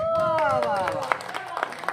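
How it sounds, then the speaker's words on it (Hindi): Outdoors on a TV serial shooting set in Pratapgarh, a small crowd claps for the writer. A voice rings out at first, then scattered, uneven claps follow amid crowd murmur. "एक जोरदार ताली हो जाए"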